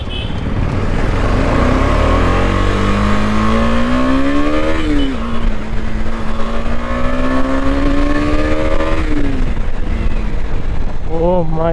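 A 2023 KTM 250 Adventure BS6 motorcycle with a liquid-cooled engine accelerates while being ridden, its engine note steady and rising in pitch, easing back and climbing again through gear changes under continuous wind and road noise.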